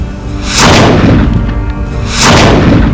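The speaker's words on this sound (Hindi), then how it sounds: "जब इन बंदूकों और तोपों ने फायर किए" Two heavy blasts of early cannon and gun fire from Babur's army at the Battle of Panipat against Ibrahim Lodi, about two seconds apart, each a loud booming crack with a rumbling tail, no voices.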